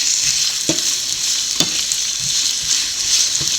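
Onions sauté in a pan for chicken puffs with a bright, steady sizzle, close and fairly loud, broken by a few spatula scrapes and taps as they are stirred, no talking.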